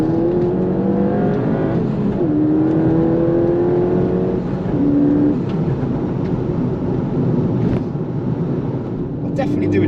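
A Ford Fiesta ST stage 2 tuned to 230 hp pulls hard under acceleration from inside the cabin, its engine note rising and stepping through gears, a loud steady drone throughout.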